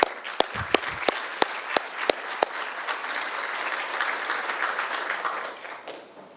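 An audience applauds steadily to welcome speakers to the floor for a closing ceremony at a distinguished lecture, a dense wash of clapping with several sharp nearby claps early on, fading toward the end.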